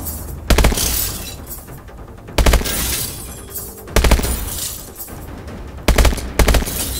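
Call of Duty Advanced Warfare target-training gunfire rings out in four loud bursts of rapid shots, each followed by a longer, noisy wash of debris and breaking sounds between volleys.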